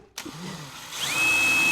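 A power drill spins up while boring a hole with a one-foot-long bit, a short burst that rises into a steady high whine within under two seconds, close and loud.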